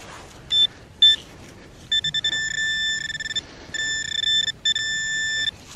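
Metal detector sounding over a buried coin, a series of clear high electronic tones, two short blips then longer sustained beeps in steady bursts, close over faint outdoor background noise.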